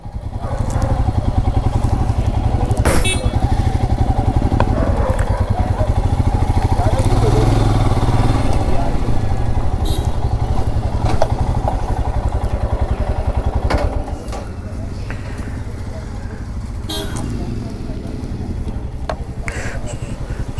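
Several motorcycles start and idle close by with a loud, steady, throbbing engine clatter, then move off toward parking as the sound drops and continues more quietly, with a few brief knocks and clanks.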